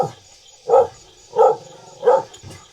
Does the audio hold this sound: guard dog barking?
yes